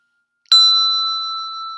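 A handbell sounding D is struck once with the right hand in a studio session, ringing out in a single bright, clear tone that slowly decays, loud and alone.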